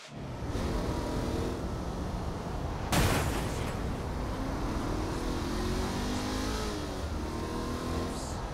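Car engine revving hard while speeding in Saints Row The Third Remastered, a continuous close roar with rising and shifting gear pitch, a sharp impact-like burst near the middle, no talk.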